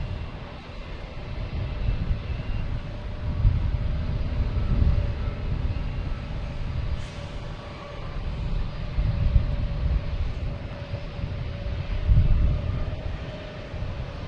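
An American Airlines jet airliner at Boston Logan Airport rumbles faintly in the distance, a low steady engine drone with a thin whine above it and gentle swells in level.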